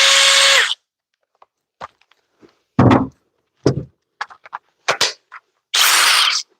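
A high-torque impact wrench fires in several loud, close bursts of rapid hammering, separated by silent gaps, with short knocks and clicks between the longer runs.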